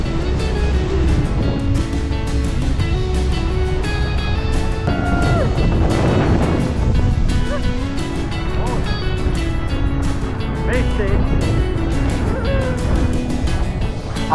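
A tour boat pushes into the heavy spray at the base of Niagara Falls on the Canadian side, a loud, constant roar of rushing water and wind with engine rumble beneath and voices faintly audible through it.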